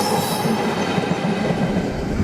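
A passenger train bound for Portsmouth Harbour rolls past a level crossing in Southampton, a loud, close, continuous rumble with rhythmic wheel clatter and a faint squeal.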